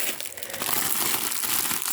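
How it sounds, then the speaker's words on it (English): Plastic packaging from a large online-shopping haul crinkles and crackles as it is torn open, a close, steady rustle with no voices. "Sorry for the rustling."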